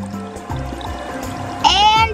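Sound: water poured from cups onto toy at Minnie Mouse toy sink

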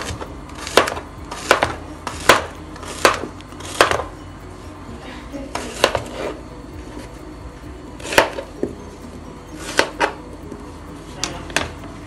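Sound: cutting plantain

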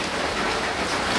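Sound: rain falling

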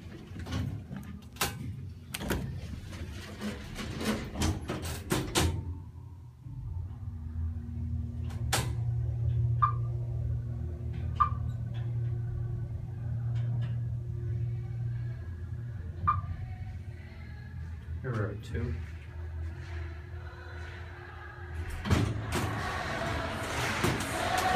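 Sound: Dover Impulse hydraulic elevator running

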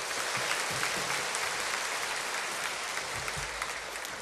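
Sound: congregation applauding in church

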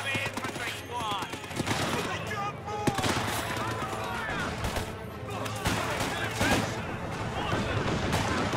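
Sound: infantry gunfire in video game Company of Heroes 2

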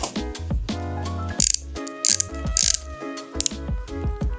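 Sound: clicking of a lipstick tube being twisted

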